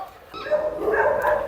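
A large farm dog, kept among kennels of mastiffs, gives a few short yipping barks and whines close by, a restless run of vocal bursts across the moment.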